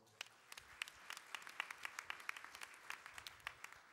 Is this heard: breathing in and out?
no